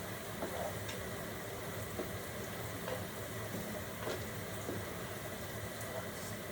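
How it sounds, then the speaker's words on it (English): Yellow onions sauté in a pan, a steady soft sizzle broken by faint scraping taps as they are stirred and pressed down, continuous and close with no talking. "I'm just kind of pressing these onions down as I'm stirring them"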